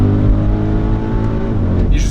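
An Audi RS Q8 engine pulls hard under acceleration, a loud, dense low rumble heard from inside the SUV that holds steady throughout with a constant roar and no talk over it.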